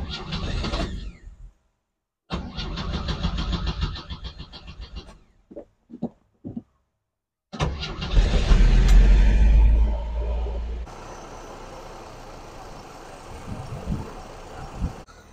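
A Chevy Vega car engine cranks in short bursts with silent gaps, catches, and settles into a steady low idle, recorded close by.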